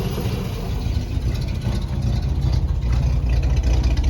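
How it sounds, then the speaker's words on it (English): A Lancia Flaminia with a newly fitted Wosp starter idles smoothly and steadily, a loud, close, even engine rumble running throughout with no talk. "Engine's so smooth."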